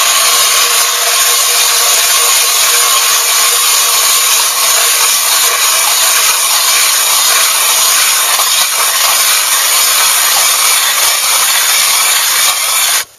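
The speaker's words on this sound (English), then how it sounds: "And we're going to start drilling a hole." A Nils ice auger fitted with an 8-inch test blade drills through ice with offset handle arms, giving a steady, loud, continuous grinding and rasping whir that runs unbroken for the whole stretch and cuts off abruptly at the end.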